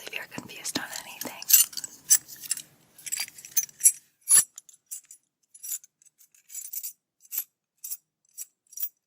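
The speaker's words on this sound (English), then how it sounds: "These keys are so used to being around my belt loop that they don't know what it's like to be free." A ring of keys, normally kept on a belt loop, jingles and clinks in short close bursts, loud at first and then in sparser taps, with soft whispering underneath.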